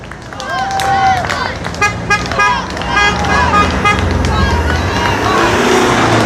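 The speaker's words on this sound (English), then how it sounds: "just honk your horn" Car horns honking amid busy street traffic, with people talking and chattering nearby, loud and crowded.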